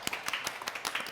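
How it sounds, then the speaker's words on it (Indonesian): Audience applause and clapping at an Indonesian stage event as a performer is introduced, short bursts of hand claps fairly close, with some crowd noise mixed in. "Tepuk tangan untuk Jajang."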